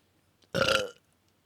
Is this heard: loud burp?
yes